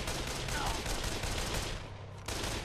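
Assault rifle fire in the video game Dead Island Definitive Edition, a dense, continuous volley of rapid shots that stays fairly quiet and steady before thinning out near the end.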